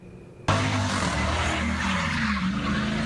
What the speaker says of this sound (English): last night she captured this video of the speeding cars and the spin-out.